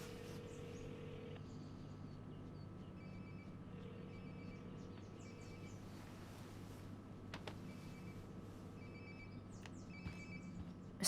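A mobile phone rings somewhere nearby in the game Life is Strange: Before the Storm, giving short, repeated electronic ring bursts. The ringing is faint and sits over a low, steady ambient hum.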